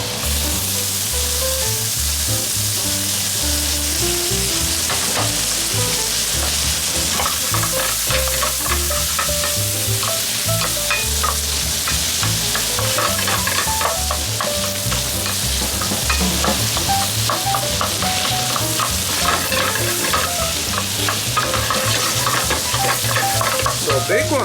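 Bacon sizzles loudly and steadily in a pan while being stirred, a dense continuous frying crackle with a spatula scraping through it, heard alone without talk, as the start of an oyster cream stew.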